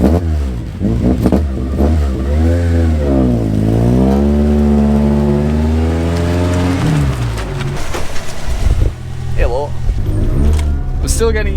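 A 4AGE-powered AE86 Corolla with a lightweight flywheel revs up through rising and falling engine sweeps, loud and close, rising sharply to a peak then settling, with a voice talking over parts of it.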